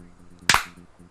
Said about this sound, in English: let's do the clap on 3